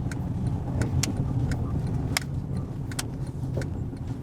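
Steady road and engine rumble from a car on a dash cam test drive, continuous and fairly loud throughout, with a few sharp rattling clicks and jingles inside the cabin and no talking.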